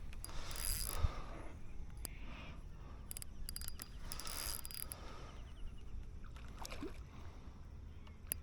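A loosely set fishing reel drag clicks and ratchets while a carp is reeled in, giving quiet, uneven mechanical ticking with small bursts over faint outdoor background near water.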